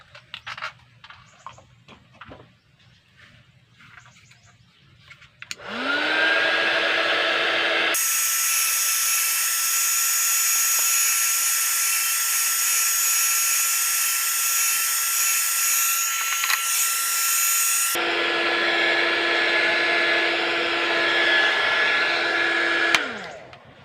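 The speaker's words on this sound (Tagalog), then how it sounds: "I-blower pala natin mga bro para ano, madaling matuyo. Gamitan natin ng hot air." A hot air blower roars steadily for nearly twenty seconds while drying a digital weighing scale under repair, kicking on loudly after quiet handling noises and winding down near the end.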